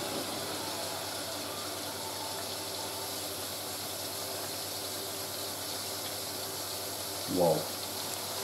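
A Hoover A3060 Electronic 1100 washing machine runs its second rinse, water hissing and filling in a steady wash near the machine, with a brief louder gurgle toward the end and no talking.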